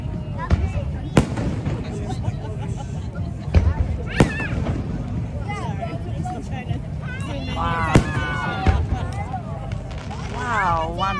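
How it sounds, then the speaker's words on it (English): Fireworks rockets burst in a Fourth of July show at Marina del Rey, California, sharp cracks and booms at irregular intervals over a continuous crackle, with a crowd chattering and exclaiming throughout. "one rocket breaks into bouquet of colors"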